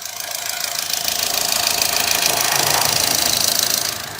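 A 2022 Honda Amaze's 1.2 litre four-cylinder petrol engine runs with the bonnet open, a loud, close, continuous hissing whir with fine rapid ticking, steady throughout before easing slightly at the end, with no voices.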